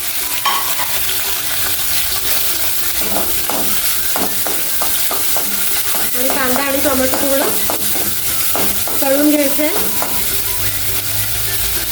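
Onion and tomato fry in a pan for green moth bean usal, a steady sizzle punctuated by a run of sharp spatula scrapes and stirring clatter, with faint tonal sounds in the background.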